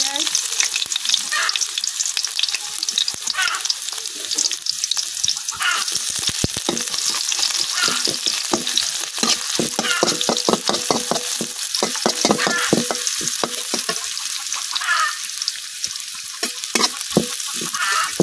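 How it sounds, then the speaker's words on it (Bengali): Raw onion dropped into hot oil in a kadai, frying with a loud continuous sizzle close by, with bursts of crackling and stirring scrapes through the whole stretch and no speech. "তেল গরম হয়ে গেছে, আমি তেলের মধ্যে দিতেছি কাঁচা পেঁয়াজ"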